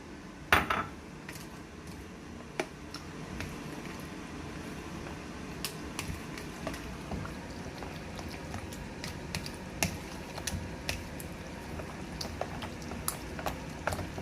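Cucumber, tomato, onion and yogurt raita stirred in a bowl with black pepper and salt: a steady run of light clinks and scrapes of a spoon against the dish, close and fairly quiet, with no talking.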